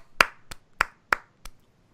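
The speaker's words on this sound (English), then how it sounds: "All right, round of applause for Gabriel" On a podcast, five separate handclaps ring out at a slow, even pace, sharp and close with quiet gaps between them, rather than a full crowd's applause.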